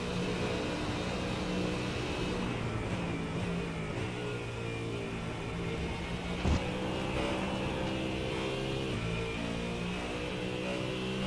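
Ford Mustang GT3 race car engine in a racing video game, a loud sustained engine drone with stepped pitch changes as it runs through gears, continuous and close with no talk.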